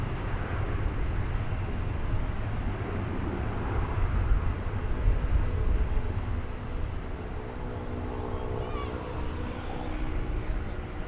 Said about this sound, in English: Oh, I hear a little plane.